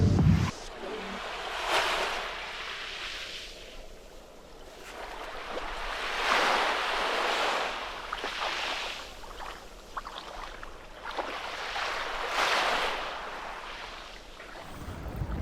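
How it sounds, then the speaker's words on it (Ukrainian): Sea waves on the Italian coast wash in and recede in slow surges every few seconds, with wind buffeting the microphone under a steady low hiss. "А я на морі."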